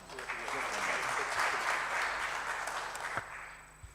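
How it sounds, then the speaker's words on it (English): A conference audience gives the panelists a round of applause at a symposium, a dense burst of clapping that swells for about three seconds and then tapers off. "A huge round of applause."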